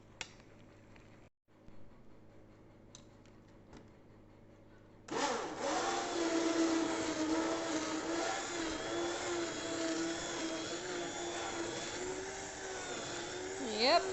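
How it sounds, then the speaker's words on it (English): A hand blender purees soft cooked apricots for jam, starting abruptly after a quiet stretch and then whirring loudly and continuously with a wavering pitch as it works through the fruit. "I'll take out my hand blender and give it a good blend."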